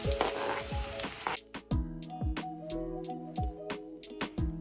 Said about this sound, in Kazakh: Шампиньонды 10 минут қуырсаңыз болады.